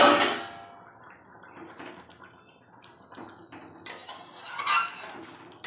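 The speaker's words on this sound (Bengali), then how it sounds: "ঢাকাটা খুলে দেখব" A metal lid clatters against a cooking pot of chicken and masoor dal, with a bright clank at the start and another rattling clink later, separated by quieter kitchen noise and faint dripping.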